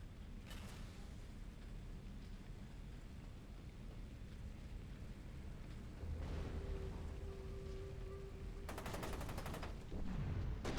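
Gunfire in the shooter game F.E.A.R. 2, heard as muffled rapid bursts within a steady, rumbling background, faint and somewhat distant, with a sharper flurry near the end.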